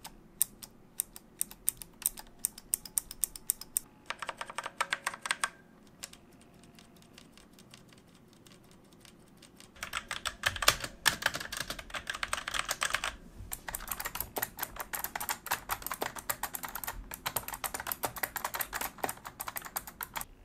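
Typing on a budget semi-mechanical gaming keyboard with hard plastic keycaps on double metal stabilizer legs, with fast bursts of close, crisp key clacks, a brief quieter pause, then dense continuous keystrokes.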